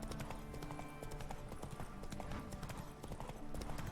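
Hooves of Roach, the horse in The Witcher 3, trot in a quick steady clatter beneath a busy game mix of music and ambience, fairly close and constant throughout.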